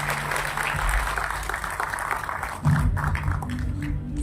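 An audience applauds at an honour ceremony for community workers in Baramulla, a steady wash of clapping from a large crowd, loud and sustained throughout, with low background noise underneath.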